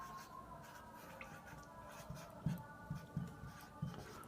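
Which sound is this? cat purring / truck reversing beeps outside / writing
writing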